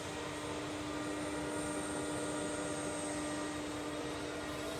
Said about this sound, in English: Working on spindle at its minimum speed